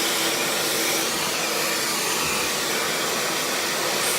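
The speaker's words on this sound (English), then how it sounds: "always keep my dryer moving, smoothing that hair shaft down the way," A handheld hair dryer blows continuously while hair is styled and smoothed, giving a loud, steady, close whooshing whir that holds unchanged from start to finish.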